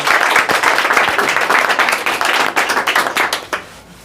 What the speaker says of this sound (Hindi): क्या जोरदार ताली